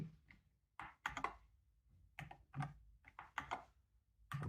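Typing on an MCHOSE Ace 60 Pro magnetic-switch mechanical keyboard: close, crisp clacking keystrokes in uneven bursts with short pauses, alone without talk.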